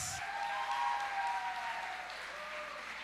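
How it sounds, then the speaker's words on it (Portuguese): A church congregation applauds to welcome a speaker, a steady wash of clapping from a moderately distant crowd that holds evenly for about three seconds. "Receba a Cláudia com um forte aplauso do Senhor Jesus"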